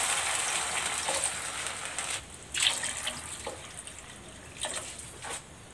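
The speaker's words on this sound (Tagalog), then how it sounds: "Maglalagay na ako dito ng tubig." Water is poured into a cooking pot of mung beans seasoned with salt and pepper, heard as soft splashing and trickling bursts over a light hiss, fairly quiet and close.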